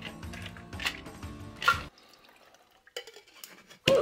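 A cocktail mixture with dried thyme drains from a shaker in a few soft, separate drips and splashes with short quiet gaps between them, ending in a sharper clink. The sounds are faint and close.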